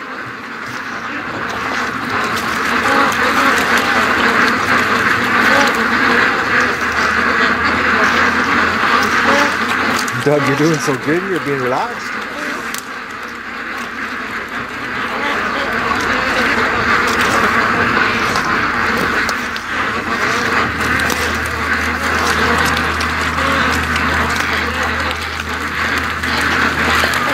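Muscovy ducks quack and chatter steadily in a swampy yard, a dense flock noise running throughout beneath a voice talking to a dog.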